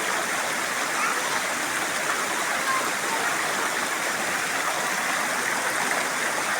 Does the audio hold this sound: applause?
no